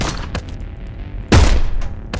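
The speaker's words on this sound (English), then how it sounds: "Oh, that's a shotgun." A single heavy shotgun blast booms out in the video game Heat Signature, rising sharply from a lower background of game noise with a few smaller thuds before and after.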